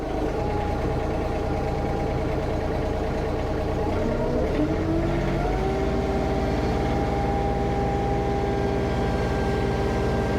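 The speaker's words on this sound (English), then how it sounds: "turn the snowblower on now" A snowblower engine runs steadily close by, a constant mid-pitched drone whose tone shifts and rises slightly partway through, then settles.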